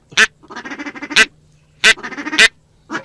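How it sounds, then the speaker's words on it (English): A duck call blown during a duck hunt gives loud, close quacking in repeated bursts, each sharp honk followed by a run of quicker, softer chattering notes, with no other voices. "I am not very good at duck calling."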